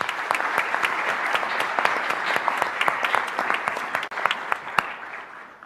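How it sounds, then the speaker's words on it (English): An audience at a university employee recognition ceremony gives award nominees a round of applause: dense, lively clapping at a steady level, with sharp individual claps standing out, then quickly dying away at the end. "Let's give each of these nominees one more round of applause,"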